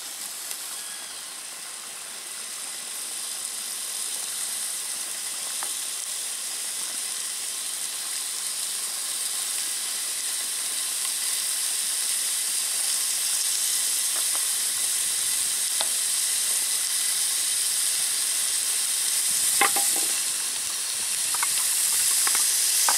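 Chicken feet fry in hot oil with garlic and seasonings, giving a steady close sizzle and bubbling hiss with a few sharper crackles and pops near the end.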